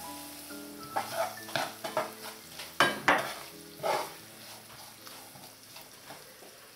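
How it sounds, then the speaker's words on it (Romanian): Onions and spices fry in a pan with a steady soft sizzle, punctuated by close stirring scrapes and light clinks of a utensil against the pan. "S-a călit puțin și ceapa, nu foarte mult, până își schimbă puțin culoarea, devine mai translucidă."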